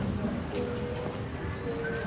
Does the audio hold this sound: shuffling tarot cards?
no